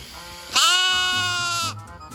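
A single loud Romanov sheep bleat during shearing, long and wavering, sounds up close for about a second before fading into quiet background noise.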